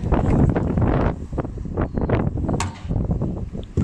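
Heavy wind buffeting the microphone at an outdoor riding session in Żyrardów, Poland, a continuous rumbling roar that surges and dips throughout.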